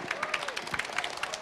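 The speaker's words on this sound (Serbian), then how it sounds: "Može jedan aplauz." An audience at a media fair panel claps, a short, dense patter of hands that sounds moderately close, with some voice mixed in.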